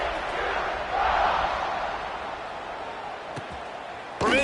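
A football stadium crowd roars with sustained, broad cheering during a kickoff, swelling loudly then settling into a steady murmur, with a sharp burst near the end.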